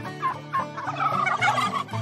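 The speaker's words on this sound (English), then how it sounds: "Fun turkey facts." A turkey gobbles in a repeated, rattling series of calls, fairly close and loud, with no talking over it.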